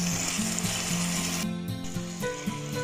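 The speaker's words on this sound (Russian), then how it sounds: "И еще немножечко обжарим." Elk meat azu frying in a pan, a continuous close sizzle and crackle under background music, briefly dipping partway before resuming.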